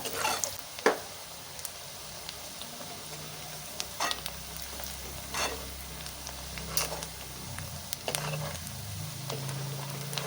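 Garlic frying in oil in a pan for vangibath, a soft continuous sizzle broken by scattered spatula taps and scrapes, fairly quiet and close with no talking.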